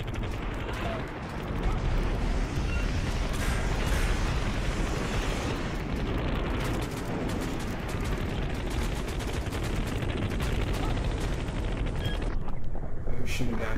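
Gunfire in Totally Accurate Battle Simulator during a large 200-unit battle, a steady dense crackle of many shots with rumbling explosions underneath, continuous throughout, with a voice talking over it.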